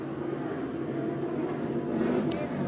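A 47-foot MTI racing powerboat roars past at the Space Coast Grand Prix off Cocoa Beach, a steady, loud engine drone that holds through the whole stretch with no talk over it.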